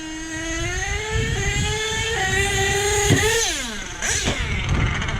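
A truck nicknamed "The Problem" revs hard through its exhaust, a loud, close engine climbing and falling in pitch with sharp throttle blips and a quick drop near the end, no talking over it.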